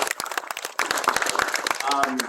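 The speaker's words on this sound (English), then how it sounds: "Everybody give this man a round of applause." Audience applause at a retro gaming expo in a museum hall, dense clapping from a crowd with cheering and voices mixed in, loud and sustained for a couple of seconds.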